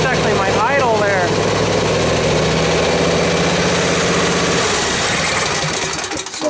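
A backpack blower's small two-stroke engine sputters and idles steadily, with a brief rising rev near the start before the running note fades out at the end.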